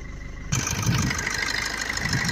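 After a brief lull, a 2016 Maruti Swift VDI diesel engine idles steadily and close, a continuous loud clatter with no talking.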